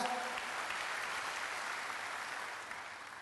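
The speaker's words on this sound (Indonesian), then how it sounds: "Yang mengerti tepuk tangan bagi Allah kita." Congregation applause at an Indonesian church service, a faint, distant wash of clapping that holds steady and then slowly fades toward the end.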